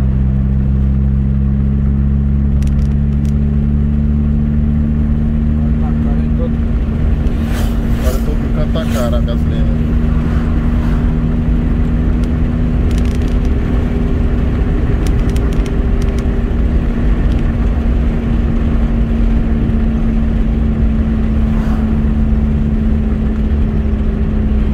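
Cars run along the two-lane BR 222 highway in Brazil, a steady engine drone and road rumble with occasional passing vehicles, while someone talks over it throughout.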